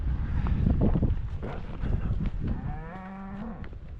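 A couple of bulls bellow and moo inside a metal stock trailer, loud and close, with rattling movement and wind buffeting the microphone; one long drawn-out moo rises near the end.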